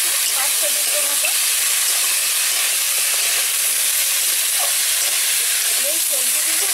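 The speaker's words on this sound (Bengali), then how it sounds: "এই সবজিগুলো মশলার সঙ্গে কষে নেবো।" Potato, eggplant and taro pieces fry with spices in a pan, making a loud, constant close-up hiss of sizzling oil with faint scraping underneath.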